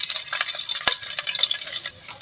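Onion and garlic sautéing in a hot pan for a sardine dish with sweet potato leaves and pechay, giving a steady bright sizzle with a crackling hiss and one sharp tap partway through.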